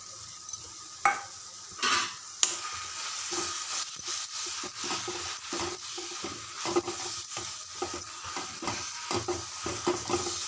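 A spoon stirs chili powder and garlic powder into a sizzling cooking dish, with scraping and clinking strokes at an irregular pace over a faint, steady frying hiss.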